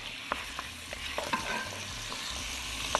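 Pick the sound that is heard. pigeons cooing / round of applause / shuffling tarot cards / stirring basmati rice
stirring basmati rice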